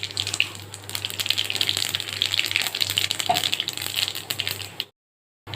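Liquid broth is poured into a pan of fish curry for a home-style bhola fish jhal, giving a steady watery gush and splash for about five seconds, close and fairly loud, before stopping abruptly.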